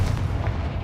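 A Confringo spell bursts in Hogwarts Legacy, a short, loud, booming blast with a low, rumbling body that lasts under a second.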